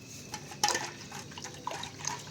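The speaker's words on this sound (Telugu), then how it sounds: "నీళ్ళు వేసుకుందాం, కొద్దిగా వాటర్ పోసుకుందాం." Water poured into yogurt batter for garelu, soft splashes and trickles with a couple of sharper pours, quiet and close.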